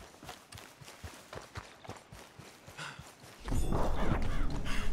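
Horse hooves clip-clop in a rapid, even rhythm as a horse moves along in Red Dead Redemption 2, the steps clear at first, then buried under a louder burst of game noise near the end.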